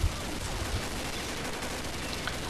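An MG42 machine gun firing in a video game, a dense continuous rattle of rapid shots that stays loud and unbroken across the whole stretch.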